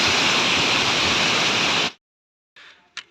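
Glacial meltwater stream on a mountain trek to Hemkund Sahib, a loud steady rushing of water that fills the first two seconds, then cuts off, followed by faint brief noises.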